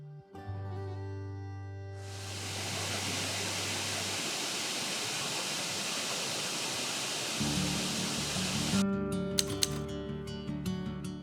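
Kuang Si waterfall in Luang Prabang, Laos, roars as a broad steady rush of falling water; it stays loud and constant for several seconds, with music before and after.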